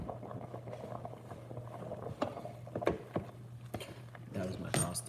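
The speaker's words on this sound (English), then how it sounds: "That was my pasta boil" A pot of pasta water boils with an irregular bubbling patter and scattered clinks over a steady low hum, fairly close. A person talks over it at times.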